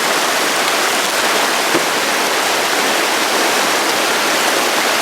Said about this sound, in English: Current's very strong.